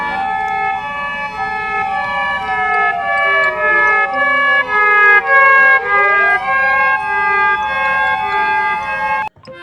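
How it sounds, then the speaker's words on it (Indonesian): A toy ambulance blares a loud, close electronic siren, its shifting wailing tones repeating for several seconds before cutting off abruptly. "Wadidaw, ada mobil ambulans, teman-teman."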